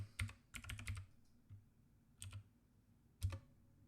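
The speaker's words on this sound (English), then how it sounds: "I'm just going to type in button." Computer keyboard typing in a few short bursts of clicks separated by pauses, close and clear in a quiet room with no voices.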